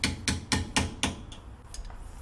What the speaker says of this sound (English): take the blunt end of a screwdriver to hammer out the bottom retaining bolt